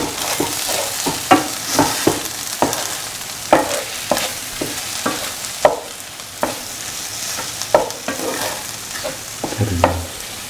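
Eggs are scrambled in a frying pan, with repeated spatula scrapes and stirring strokes in a steady rhythm over a continuous close sizzle.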